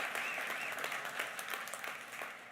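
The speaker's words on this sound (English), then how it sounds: "a round of applause for everyone that works in retail at this time of year" A church congregation at a Christmas Eve service breaks into sustained applause, dense clapping that holds steady and then eases slightly, filling the room with no talk over it.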